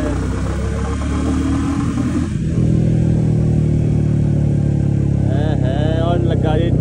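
Motorcycles ride in a group along the border road during an army marathon ride, a loud continuous engine drone that rises and revs midway, with voices mixed in.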